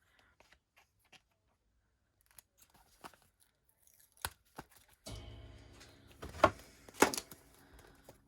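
Scissors snip through paper cards for collage journaling, a few sharp crisp cuts building into a denser run of rustling and snipping near the end, close and fairly quiet.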